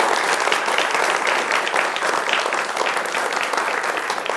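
Students in an audience at a university discussion event break into steady, dense applause, loud and sustained throughout with no voices over it.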